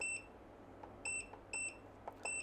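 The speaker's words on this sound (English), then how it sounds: "if you hate this annoying beep, there, you got rid of it" Aixun T420D dual soldering station sounds a series of short, bright electronic beeps, about four separated chirps spaced irregularly over a couple of seconds, fairly faint over a quiet room background.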